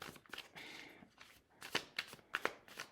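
Tarot cards are shuffled, flipped and drawn from a deck, with soft papery riffles giving way to several crisp, close snaps of cards being laid down.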